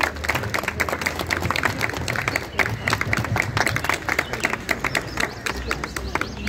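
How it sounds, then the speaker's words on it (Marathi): An audience at a yoga institution's award ceremony applauds after a session of sun salutations. The clapping is sustained and lively, with distinct hand claps throughout and faint voices underneath. "जोरात टाळ्या वाजवूया आपण"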